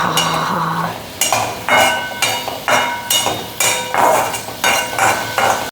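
A spatula stirs chicken in a pan on a gas stove at full flame. The scraping strokes are close and loud and repeat in an even rhythm of about one per second, with light metallic clinks and no voices.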